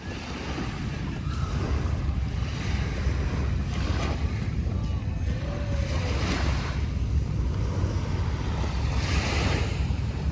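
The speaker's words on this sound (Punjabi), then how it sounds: "ਲਹਿਰਾਂ ਦੀ ਆਵਾਜ਼ ਦਾ ਜਿਹੜਾ ਆਨੰਦ ਉਹ ਵੱਖਰਾ ਹੀ ਆ" Sea waves wash steadily onto the beach at Sentosa Island, Singapore, a continuous loud roar of surf with wind rumble and no voices.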